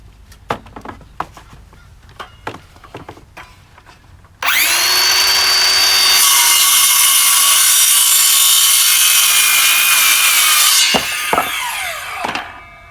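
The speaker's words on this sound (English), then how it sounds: "So the saw is working a little harder than it would in nice clean dry wood." A power saw with a worn blade cuts through wet scrap wood while a chicken watering system is being built, starting abruptly after a few clicks and knocks and grinding loudly and steadily for about six seconds before winding down, followed by a few knocks.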